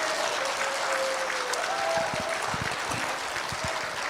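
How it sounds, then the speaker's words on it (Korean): Sustained applause from a large audience at a church rally in Daejeon, a dense, steady wash of clapping filling the whole stretch at even loudness. "다시 박수하겠습니다."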